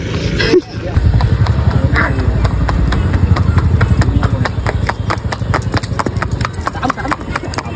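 Rhythmic clip-clop of a ridden horse's hooves at a steady walking pace, close by, with people talking over it and a faint engine hum.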